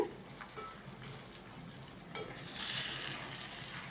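Bitter gourd and egg fry sizzling steadily in a pan while being stirred slowly, a soft continuous crackle that swells louder toward the end, with no talking.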